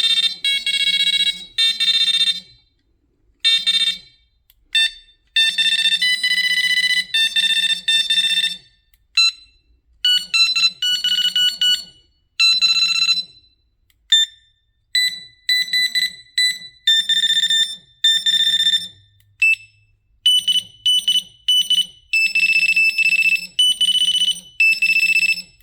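Sonik HeroX fishing bite alarms cycling through their tones: bursts of shrill electronic beeps in varied pitches and rhythms, some rapid trills, some longer steady tones, separated by short silences and heard up close and loud.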